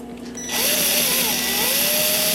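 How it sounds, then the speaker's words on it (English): A power drill with a step bit spins up and bores into a cuckoo clock part, whining loudly and steadily with wavering pitch as it cuts, close and alone after a quiet start. "I'm going to use a step drill"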